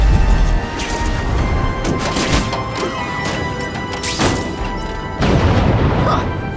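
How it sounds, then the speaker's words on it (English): Fireworks burst in The Amazing Spider-Man 2 video game, several loud booms and crackling blasts spread across the moment, close and punchy, with game voices and sound effects around them. "Friendly neighborhood fireworks"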